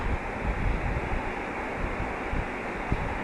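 Heavy rain pours as a dense, continuous broadband roar with gusty low rumbles, loud and unbroken throughout, with no voices.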